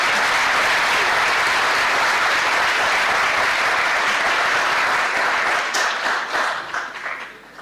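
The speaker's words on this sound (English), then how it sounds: "please join us in welcoming all of them with a huge round of applause" A conference audience at an international research conference applauds dignitaries, dense sustained clapping from many hands that thins into scattered claps and fades toward the end.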